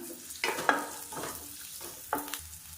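Onions fry in hot oil for a sambar, stirred with a few scraping strokes in short bursts over a soft, quiet sizzle, with no voices.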